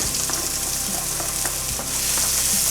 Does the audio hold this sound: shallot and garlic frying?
yes